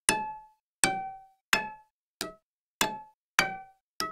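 Seven bright, ringing plucks of double bass strings below the bridge at a steady pace, each a sharp metallic attack with a short decaying tone, clangy and bell-like rather than deep.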